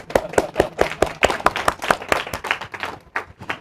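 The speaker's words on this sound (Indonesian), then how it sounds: "Buat saya tepuk tangannya pelan." Scattered clapping from a small audience at an academic book launch and discussion, a quick uneven run of hand claps, fairly close, tapering off toward the end.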